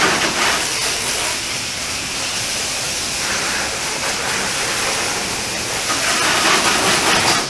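A hose sprays a strong, steady rush of water over a 1967 Ford Thunderbird, loud and continuous with no voices.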